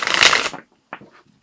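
Tarot cards riffled and shuffled in a dense, close burst lasting about half a second, then two brief, softer card taps or slides after a short pause.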